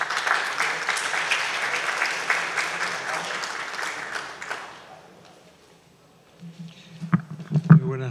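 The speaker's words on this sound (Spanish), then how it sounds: "Aplausos." An audience at a mining innovation conference applauds steadily for about five seconds before the clapping fades out. A voice then begins speaking from the podium.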